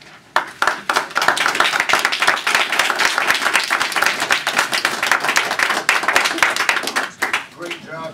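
An audience applauds after a leadership conference presentation, a sudden burst of close, loud clapping from many hands that holds steady for about six seconds before tapering off.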